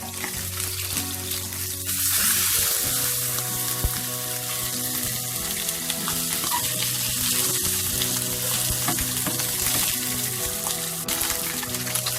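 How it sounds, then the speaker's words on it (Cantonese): Pieces of grass carp belly pan-frying in a hot wok, a loud, steady sizzle that keeps going throughout, with occasional clinks and scrapes of stirring close by and no voices. "煎一煎呢個魚"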